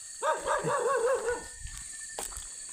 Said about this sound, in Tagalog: Yung mga mababait na mga aso, oh. Naglalaro pa sila, oh.